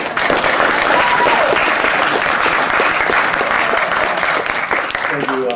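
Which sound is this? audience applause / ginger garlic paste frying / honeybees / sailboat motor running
audience applause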